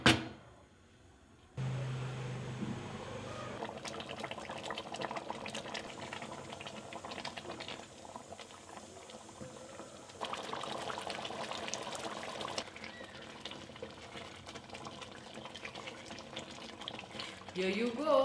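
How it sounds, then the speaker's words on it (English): Water tipped into a cooking pot of Masor Muror Ghonto, a Bengali fish-head curry, followed by steady bubbling and simmering. A sustained wet, textured sound runs at a fairly even level throughout, with no talk. "Add 2 cups of water."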